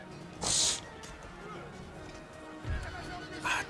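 Cavalry horses whinny in two short, shrill bursts over a busy battle background in the video game Total War: Empire, with someone talking throughout.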